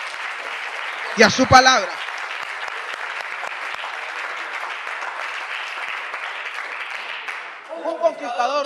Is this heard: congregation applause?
yes